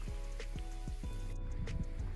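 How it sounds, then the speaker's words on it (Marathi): Light, fine rain falls outdoors on a farm, a soft steady hiss with scattered drop ticks throughout. "पाऊस आला"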